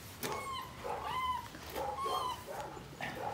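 A big dog whimpers and whines in short, high, wavering cries, repeated several times in close succession at moderate loudness.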